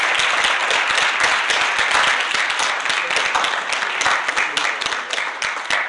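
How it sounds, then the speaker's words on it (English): A poetry slam crowd breaks into another round of applause, dense and loud, with steady continuous clapping that fills the room and tapers slightly toward the end. "I need one more round of applause."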